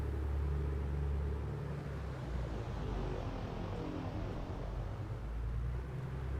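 An A2A Aerostar twin-engine aircraft in a flight simulator holds a steady, low, droning engine rumble while the props are cycled at 1,000 RPM, with a slight dip in the middle.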